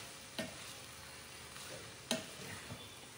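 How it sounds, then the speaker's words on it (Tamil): Vegetable hakka noodles being stir-fried in a pan, with a soft steady sizzle broken by a few sharp scraping and clanking strokes of the spatula; quiet and close, no talking. "இதில் வந்து வெஜிடபிள்ஸ் எல்லாம் அடியில் இருக்கும், அதனால் அப்படியே மிக்ஸ் பண்ணி விடுங்க"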